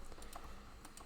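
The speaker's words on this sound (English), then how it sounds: "we're going to hit Shift W on the keyboard" Several quick keystrokes tapped on a computer keyboard during a Blender shader editing session, quiet, close and alone.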